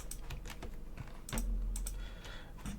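Computer keyboard keys pressed while drafting in AutoCAD, a quick irregular run of close, crisp clicks and taps with one heavier thump midway, no speech.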